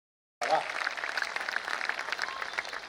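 Applause from the audience at a Hindi kavi sammelan poetry recital, a dense clapping that starts abruptly after near-silence and holds steady, lively and fairly close.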